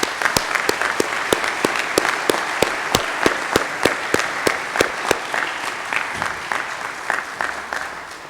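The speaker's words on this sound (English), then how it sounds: "Let's give one last round of applause to all of our award winners" Sparse, rhythmic hand clapping from a small audience, steady individual claps that gradually thin out and fade.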